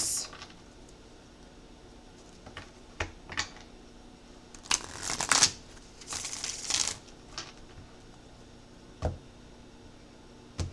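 Tarot cards are shuffled in a few quick, crisp riffling bursts near the middle, with scattered soft taps and clicks before and after.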